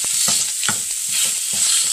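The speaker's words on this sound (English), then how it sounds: "Get the sausage broken up here." Sausage being broken up and fried in a pan, a loud continuous hiss of sizzling fat with rhythmic scraping strokes as it is stirred and chopped apart, close up with no voices.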